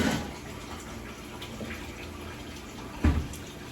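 Tap water runs steadily into a kitchen sink while hands are washed during cake baking, a soft continuous wash with a brief louder splash near the end.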